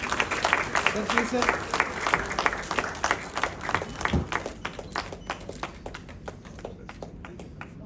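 An audience applauds at a road safety awards ceremony, with scattered, uneven clapping under a voice and a few sharp individual claps that thin out toward the end.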